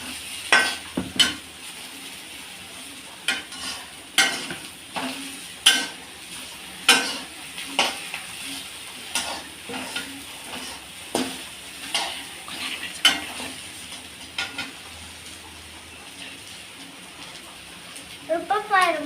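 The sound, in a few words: ladies finger (okra) being sautéed and stirred in a pan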